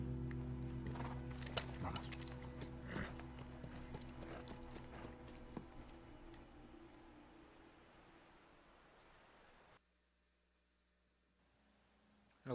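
Horse hooves clip-clop in The Last of Us, a fairly close, irregular run of hard knocks with faint rustling behind them, before the sound drops away to near silence at the end.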